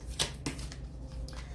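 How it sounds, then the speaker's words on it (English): A deck of reading cards is shuffled by hand with a few soft, quick riffling bursts and papery slides, faint and close, with no talking. "You're watching me shuffle. And that was the pre-shuffle."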